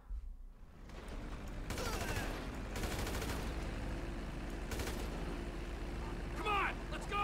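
Sustained gunfire in the GTA 5 video game crackles steadily for several seconds, with heavier bursts layered in, fairly loud under occasional voices talking.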